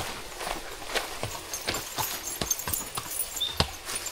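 Horses' hooves clip-clop unevenly on a rough, dangerous trail in Tayabas, with sharp irregular hoof strikes at close to mid distance and no talk.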